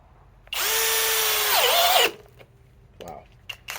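A Flex FX1231 compact hammer drill on a 2.5 battery whines loudly at full speed for about a second and a half, bogs slightly as it bites, then stops, leaving a few faint clicks and handling knocks.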